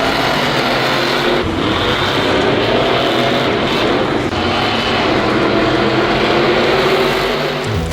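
Monster trucks race side by side on a track, a loud, dense, continuous engine roar that stays constant throughout with no talk.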